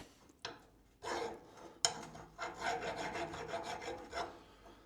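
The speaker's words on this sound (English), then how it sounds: "It cuts with a file" A hand file rasping across welded metal in a workshop, several separate strokes with short pauses, then a run of quicker rhythmic strokes, close and fairly quiet with no talk.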